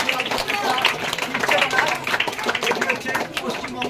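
Dense, steady applause from a crowd at a school ribbon-cutting, where the headmaster cuts the ribbon during West Bengal Day events at Arambagh High School; the clapping stays loud and even throughout.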